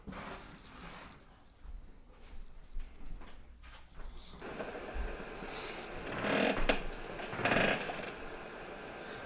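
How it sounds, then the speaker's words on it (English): Squeaky old floorboards in a building creak and groan underfoot, a series of faint irregular creaks and scrapes swelling into louder squeals near the end, with no talk over them. "Remember how squeaky these floors are too?"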